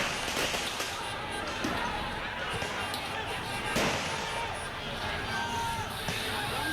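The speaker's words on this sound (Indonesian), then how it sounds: "Kita dengar berkali-kali ada tembakan." Sharp, gunshot-like bangs crack out a few times over a dense, constant crowd din at a street protest outside a parliament building, with voices mixed into the noise.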